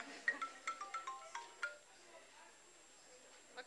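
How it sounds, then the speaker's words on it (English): A phone ringtone chimes in a quick run of bright electronic notes, then cuts off, leaving a quiet room. "This is my phone ringing."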